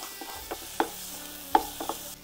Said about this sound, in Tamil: ஃப்ளேம் கொஞ்சம் ஜாஸ்தி வச்சு கைவிடாமல் கிளறுறேன்